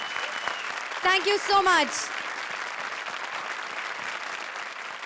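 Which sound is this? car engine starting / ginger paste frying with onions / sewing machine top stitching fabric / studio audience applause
studio audience applause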